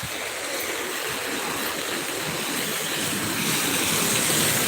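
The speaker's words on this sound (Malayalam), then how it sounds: "ഇതാണ് പുഴ കേട്ടോ" The flooded Kannara river rushes below the opened Peechi dam, a loud, steady, unbroken roar of fast-moving water heard close up with no talking.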